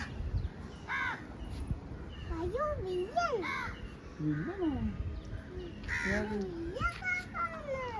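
Several crow caws sound at moderate distance while a child chatters and other voices speak nearby.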